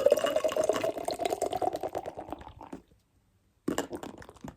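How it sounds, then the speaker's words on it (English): Hard pour of Citra double IPA from Deya into a glass, a steady close splashing gush of liquid that cuts off abruptly, followed by a brief quiet gap and another short burst of pouring. "despite a hard pour, not much carbonation, but there's a bit"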